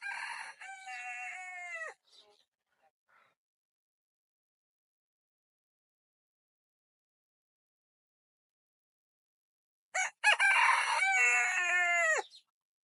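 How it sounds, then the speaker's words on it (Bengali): A rooster crows close by on a rural riverside farm, one long call at the start and another after a long silence near the end. "মুরগির ডাক"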